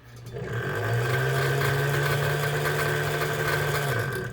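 A Kenmore 95 sewing machine winds a bobbin with the needle disengaged, its motor spinning up into a steady, even whir that holds for a few seconds before easing off at the end.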